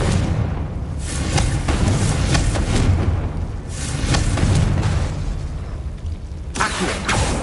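Confringo spell blasts from Hogwarts Legacy boom in a dense run of fiery explosions and crackling bursts, loud and close, one after another with barely a pause.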